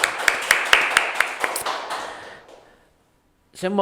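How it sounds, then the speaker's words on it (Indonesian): A studio audience applauds during a Ramadan religious talk show, a dense burst of clapping with sharp individual claps that fades away over a couple of seconds, followed by a short silence before a voice begins. "Ini tepuk tangan dulu loh Sobat Inspirasi ya."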